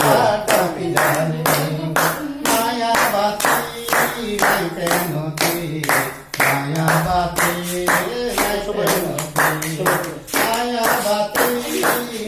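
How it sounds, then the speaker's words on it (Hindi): A group claps hands in a fast, steady rhythm at a tribal song gathering, loud and close, with singing voices running underneath the sharp repeated claps. "ताली मारो ताली मारो"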